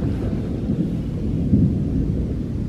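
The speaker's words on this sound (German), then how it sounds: "die Atmosphäre hier mit dem Gewitter" A thunderstorm at an abandoned hospital gives a low, continuous rumble of thunder that swells slightly midway, with rain hissing faintly behind it and no voices.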